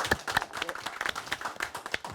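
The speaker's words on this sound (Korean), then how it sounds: "큰 박수로 환영합시다" An audience at a science and technology policy forum claps to welcome a speaker, giving quick scattered hand claps at moderate volume with faint voices mixed in.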